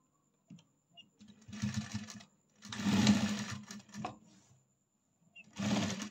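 A sewing machine stitches a blouse, running in several separate bursts of steady mechanical whirring with short pauses between them, close and moderately loud with no talking.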